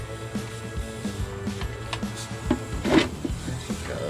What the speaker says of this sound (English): Try to slowly loosen up a few more bolts here.